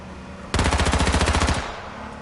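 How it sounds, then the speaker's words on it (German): A machine gun fires a single sustained burst of about a dozen rapid, evenly spaced shots in the H1Z1 battle royale game, loud and sharp for roughly a second, then stops with quieter background sound left behind. "Wer hat geschossen? Ja, wir haben alle kein Maschinengewehr, also der andere."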